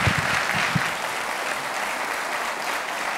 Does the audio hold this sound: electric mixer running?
no